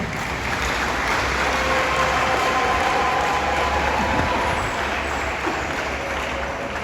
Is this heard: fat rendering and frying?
no